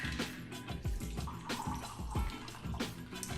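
Liquid pours into a glass while a Vegas Bomb cocktail is mixed, with splashing gurgles and a few clinking, rattling knocks, close and continuous without speech.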